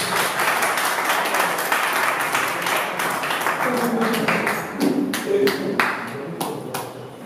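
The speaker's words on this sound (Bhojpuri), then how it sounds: "एक जोरदार ताली।" A crowd claps loudly and steadily at a folk-song cultural program in Daudnagar, Aurangabad, Bihar, while guests are honored. The clapping thins into scattered sharp claps toward the end, with a voice briefly audible.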